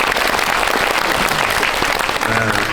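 A cinema audience applauds loudly at a Korean guest-visit talk event for the film Hunt, with dense, sustained clapping that fills the room evenly for the whole stretch.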